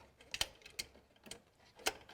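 Ratchet loosening a coil pack bolt on a Subaru Impreza during a spark plug job, heard as four separate sharp clicks spread out over about two seconds, quiet and close.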